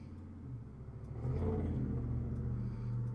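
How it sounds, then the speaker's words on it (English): Road traffic passes outside, a low engine rumble and tyre whir that swells partway through and stays steady, muffled and fairly faint, with no talking. "Traffic's getting loud too for some reason."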